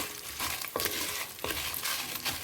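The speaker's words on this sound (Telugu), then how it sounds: "ఇలా వేగేటప్పుడు ఎండుమిరపకాయలు కూడా వేసేయండి అన్నీ వేగిపోతాయి ఒకసారి" Dried red chillies fry in a pan with other ingredients, giving a close, steady hiss and sizzle broken by a few scraping stirs, with no talking.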